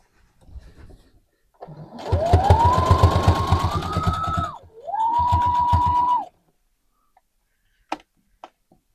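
Two bursts from a sewing machine stitching a legging seam, the first about two seconds long and the second shorter, each a rapid rhythmic whir of needle strokes, close and fairly loud, followed by a few faint clicks.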